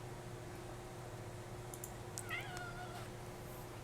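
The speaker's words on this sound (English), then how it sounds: "I also have a cat who is unreasonably upset" A pet cat that is upset meows faintly in the distance, a short cluster of thin wavering cries over steady low room hum.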